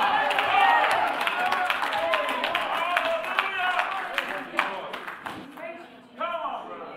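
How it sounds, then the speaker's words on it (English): A church congregation claps during a live Sunday afternoon service, a busy, sustained patter of many hands that gradually thins and fades, with a voice speaking briefly near the end. "Can you give the Lord a clap offering tonight?"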